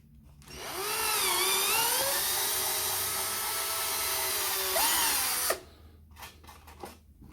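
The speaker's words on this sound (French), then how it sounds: "Je mets dans la mèche de 5 à la place. Et je refais mon trou." An electric drill with a 5 mm bit bores a hole while a PECO model railway turnout is being installed. The motor whine climbs quickly, holds for about five seconds, then cuts off and is followed by a few light taps.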